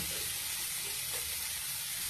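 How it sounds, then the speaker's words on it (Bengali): Salt and spices stirred into food frying in a pan, a steady close hiss and sizzle with faint scraping of the stirring, continuous and even, with no talk. "লবণ দিয়ে নাড়তে থাকি"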